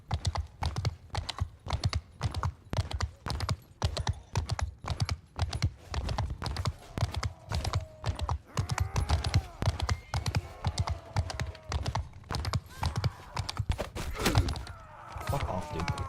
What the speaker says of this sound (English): Get the horses if you can